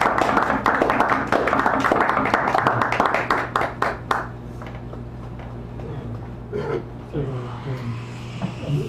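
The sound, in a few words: audience applause welcoming a poet at a reading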